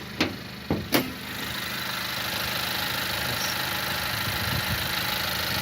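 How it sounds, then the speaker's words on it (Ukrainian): A 2019 Honda CR-V 2.4-litre petrol engine idles steadily with a low, even hum after a few sharp clicks and knocks at the start; quiet and close. "Дуже тихенько працює, до речі, двигун."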